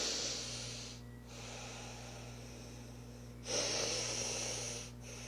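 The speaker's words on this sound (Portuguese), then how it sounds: "Você pode apenas respirar pelas narinas, inspira e solta pelas narinas" A person breathing in and out through the nostrils, with long steady airy breaths close up over a faint hum and a short sharper intake near the end.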